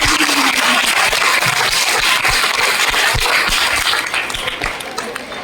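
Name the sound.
school audience clapping for teachers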